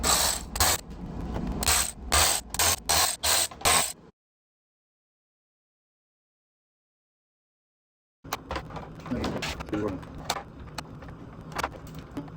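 A hand ratchet clicks in quick bursts while turning a 1/4 inch socket during disassembly of a Maytag washer, with close metallic pawl clicks, then a stretch of silence, then more rapid clicking.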